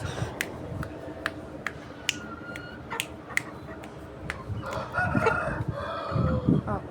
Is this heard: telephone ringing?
no